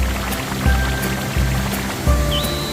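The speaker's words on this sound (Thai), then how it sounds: "ตอนนี้จะมีน้ำหยดลงมาด้วยนะครับ" Water drips from a rock cliff face along a forest walking trail near Chiang Mai, a soft steady patter of drops over a continuous watery wash, with a few louder splashes standing out.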